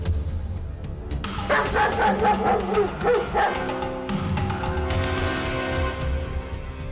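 A dog barks and yips in short repeated bursts at moderate distance, with some whimpering and no speech over it.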